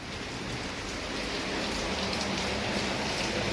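Steady, dense rain pattering on a surface, a constant close hiss with no pauses and no voices.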